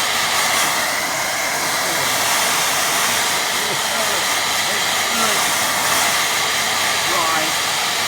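A hair dryer drying a watercolour painting of hills and pines, a continuous close airy roar that holds steady throughout, with someone talking faintly underneath.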